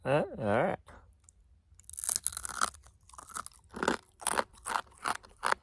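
A dried scorpion is chewed during a Colorado Trail hike, giving loud close crunches in an irregular rhythm after a short spoken voice at the start.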